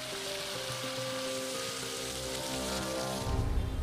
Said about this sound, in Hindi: पौड़ी गढ़वाल में एक बार फिर से मूसलाधार बारिश शुरू हो गई है।